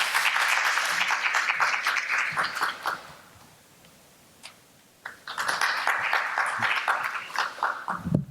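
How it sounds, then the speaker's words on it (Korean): An audience of parents at a university seminar applauds to welcome the university president, with dense clapping that dies away into a quiet gap and then resumes strongly for several seconds. "힘찬 박수로 환영해 주시기 바랍니다"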